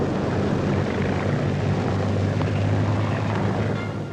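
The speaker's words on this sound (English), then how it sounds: "A wild panic as each flight of bombers drops its cargo of devastation." Bomber planes fly over Madrid in an old newsreel, a loud steady engine drone filling the whole stretch and easing slightly at the end, with no talk over it.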